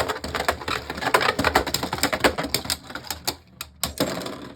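Beyblade Burst spinning tops clatter and collide in a plastic battle stadium, with a dense run of sharp close clicks and knocks that thins out into a few separate hits at the end.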